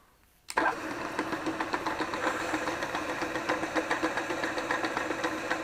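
A milling machine cuts into a clamped manifold under hand feed, starting abruptly after a brief quiet moment and then running as a steady, rhythmic mechanical grind with regular chattering pulses throughout.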